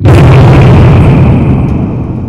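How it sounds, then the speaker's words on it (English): A cartoon explosion of the harbour bridge bursts out loud and close, a single heavy boom that rolls into a long rumbling decay and fades over about two seconds. "He blew up the harbour bridge!"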